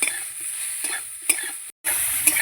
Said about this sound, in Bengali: নেড়ে চেড়ে ভেজে নেব।